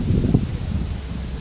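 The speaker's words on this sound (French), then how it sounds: "Alors le temps serait plutôt très venteux et des risques de pluie ce soir." Wind blows steadily across a bridge over the Saint-Denis river on Réunion island, a rushing, buffeting roar close to the microphone, with a brief gust near the start.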